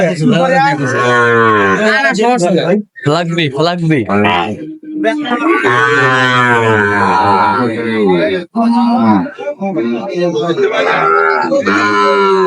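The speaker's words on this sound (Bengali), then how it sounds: "ভাই দেখো সে গরু" A cow moos repeatedly in drawn-out, harmonic calls at a cattle market with Sahiwal bulls and calves, mixed with people talking nearby throughout.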